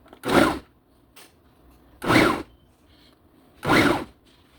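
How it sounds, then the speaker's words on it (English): Three separate broadband strokes, evenly spaced about every two seconds, each a short crunchy burst like a knife chopping food on a board, with quiet gaps between. "More chopping."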